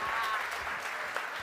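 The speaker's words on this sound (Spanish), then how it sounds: "Fuerte el aplauso para Gaby Morgare." Audience at a live event applauds a guest called to the stage, a steady, fairly close burst of clapping filling the short moment with a faint voice mixed in.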